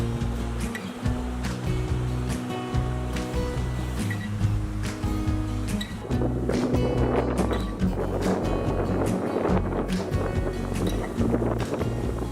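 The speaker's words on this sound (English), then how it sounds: "The situation is it's really, really windy." Strong wind roars and buffets the microphone outdoors on a duck hunt near water, a constant rough rumble with a motor-like hum underneath and no talking.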